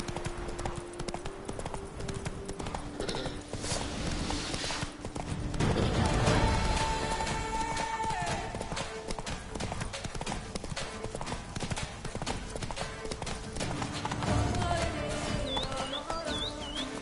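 Roach the horse trots on in Witcher 3: Blood and Wine, with a steady, continuous clatter of hooves over ambient game music and faint bird chirps, swelling slightly midway.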